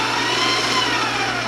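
An electric hand mixer runs on low in a bowl of sugar-free chocolate cake batter, giving a steady, loud motor whir that holds even for the whole moment with no talking.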